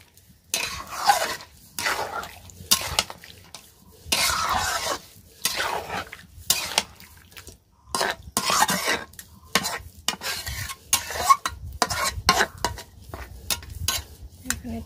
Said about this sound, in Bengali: এটাকে ভালো করে একটু নেড়ে চেড়ে ঢাকা দিয়ে রেখে দেব কিছুক্ষণ সময় এটা কষাবো